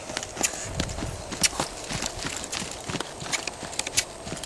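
A mustang gelding under saddle at an Extreme Mustang Makeover, hooves thudding in an uneven walking rhythm over the ground, with scattered sharper strikes and a faint background hiss, no talk.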